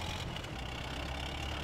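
A tractor engine in a video game idles and rumbles at a steady low pitch, quiet and continuous with no talk over it.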